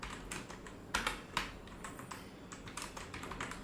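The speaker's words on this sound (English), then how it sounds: "Okay, now double click into it and write your text like this." Rapid keystrokes on a computer keyboard while text is entered into a design editor, a steady patter of close, fairly quiet clicks with a few sharper taps, no voices.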